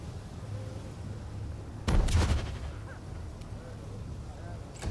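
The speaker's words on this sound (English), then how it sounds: "Magic missile" A magic missile spell cast in Pathfinder: Wrath of the Righteous goes off as a single burst of bright crackling impacts, lasting about half a second, over a steady low game ambience.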